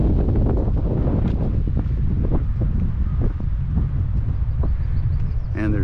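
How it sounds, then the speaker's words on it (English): Strong gusts buffet the microphone at a coastal overlook on Otter Cove in Acadia National Park, a constant loud low roar with faint surf-like wash beneath. "Quite windy here though today."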